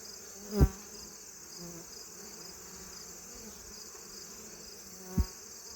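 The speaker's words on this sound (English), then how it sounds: "Got a lot of bees on this inner cover here." A steady, dense hum of many honey bees buzzing close by on a hive's inner cover, with two sharp knocks breaking through, one early and one near the end.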